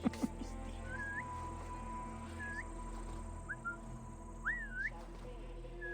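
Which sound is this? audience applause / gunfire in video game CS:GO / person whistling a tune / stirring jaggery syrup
person whistling a tune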